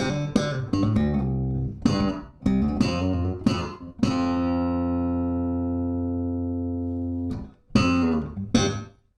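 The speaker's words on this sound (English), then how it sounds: "This has got compression." Bass guitar run through a valve stereo bass preamp with compression engaged, close and punchy plucked notes with short decays, then one long note sustaining evenly for several seconds before more picked notes.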